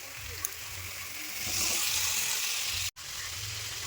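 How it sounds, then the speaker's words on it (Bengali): Pre-fried potatoes dropped into a pan of hot oil for spiced potato curry, a steady close sizzle that swells louder midway, with a brief dropout near the end. "এখন আমি এর মধ্যে দিয়ে দেবো ভেজে রাখা আলু"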